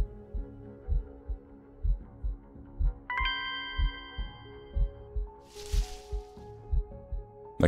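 Faint, steady heartbeat from the horror game Paper Lily, a regular low double thump repeating about twice a second over a soft ambient hum, with a brief chime and a short airy swish partway through.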